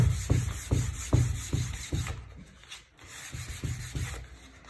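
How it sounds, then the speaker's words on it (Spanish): Wood being hand sanded with fine 1500-grit sandpaper, a close, soft rasping rub repeated in steady back-and-forth strokes, with a brief pause midway before the strokes resume. "me gusta darle una pasada a mano con una lija ya de grano fino"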